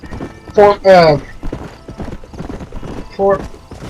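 Horse hooves clip-clopping at a steady riding pace in Red Dead Redemption, a Wild West game, with a horse whinnying loudly a few times and someone talking over the ride.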